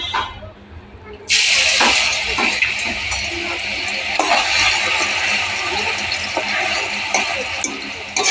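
Potatoes coated with salt, turmeric and lemon juice hit hot oil with a sudden loud sizzle that keeps hissing steadily, with faint crackles and a soft voice in the background.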